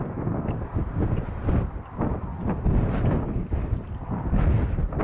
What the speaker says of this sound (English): It's the wind that's killing me today